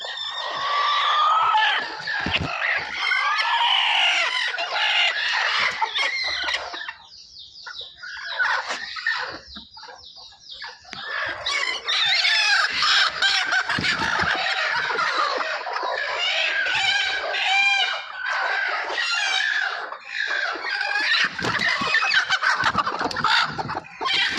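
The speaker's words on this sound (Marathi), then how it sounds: "मल्टी कलरची कोंबडी अजून" Village free-range hens on a Maharashtra poultry farm cluck and squawk continuously, close and loud, with occasional rooster crows mixed into the busy flock.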